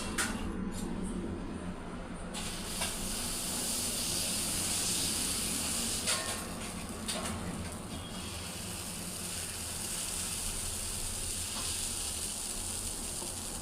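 Butter dosa batter sizzling on a hot pan, a steady loud hiss with a few brief clatters over it, continuous throughout.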